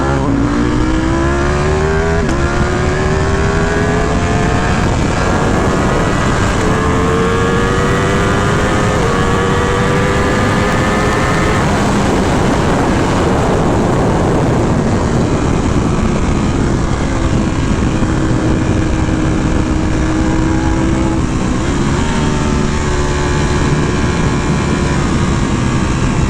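A 2018 Ducati Panigale V4 S fitted with a full Akrapovic exhaust, ridden in race mode: its loud engine howls and climbs in pitch through the gears, drops on each shift and surges again, steady and close throughout.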